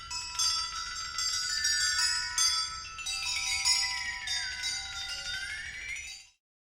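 Metallophone stating the fugue subject in Lou Harrison's Fugue for Percussion: a clear run of bright, ringing metallic notes with long overlapping resonance, moderately loud and alone, closing with a final note that rings out before silence.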